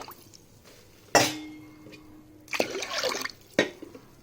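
Water is measured in at five cups per cup of rice and poured over washed rice and moong dal for nonbu kanji porridge. Close by, a sharp clink and short splashy pours sound against a quiet background.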